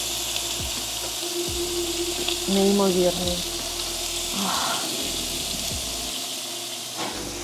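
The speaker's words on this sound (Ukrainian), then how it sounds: "Послухайте, як він шкварчить." Steady, crackling sizzle of bacon frying in hot fat, continuous throughout, with a brief spoken word and light clinks over it.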